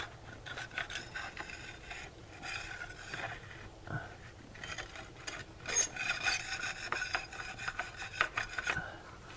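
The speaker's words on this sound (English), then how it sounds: "I'll take my putty knife. What I do is I scrape it up," A putty knife scrapes up grout along a tiled corner, producing steady, gritty rasping strokes that continue without pause at close range in a quiet room.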